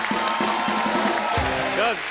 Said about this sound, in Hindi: जैकी दादा के लिए जोरदार तालियां